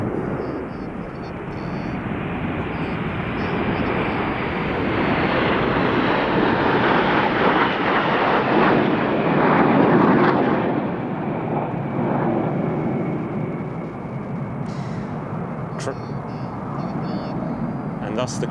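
Frecce Tricolori jet aircraft fly an aerobatic display at the Royal International Air Tattoo, a broad loud roar that swells toward the middle and eases off, with a commentator talking over it.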